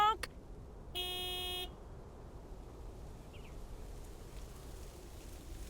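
In the snowy video game Lake, a big white mail truck sounds its horn in a short steady honk that stands out clearly against a quiet ambient background, with brief talk nearby.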